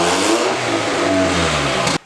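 A car engine revving hard on a drag strip pass, a loud, sustained close roar with a rising engine note that cuts off abruptly at the end.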